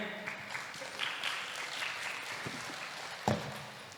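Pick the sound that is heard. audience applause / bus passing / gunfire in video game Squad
audience applause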